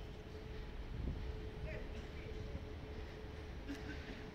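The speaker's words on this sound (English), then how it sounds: "The metro is starting" A Moscow metro train starts at dawn, a steady low rumble carrying a thin, constant whine, heard from some distance in the open air.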